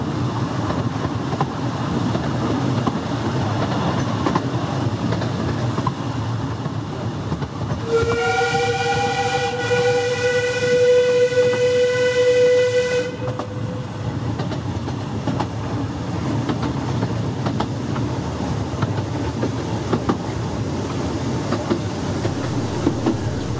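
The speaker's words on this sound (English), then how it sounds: "Whistling for a popular foot crossing, which I've often used myself." A steam locomotive on the Ravenglass and Eskdale Railway sounds one long, loud, chord-like whistle lasting several seconds over a steady wet-weather rumble of the moving train, with no voices.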